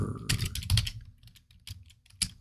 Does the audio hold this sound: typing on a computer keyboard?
yes